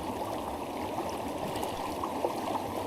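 A stream being prospected for gold flows steadily with a continuous broadband rush and trickle, close and even throughout with no voices.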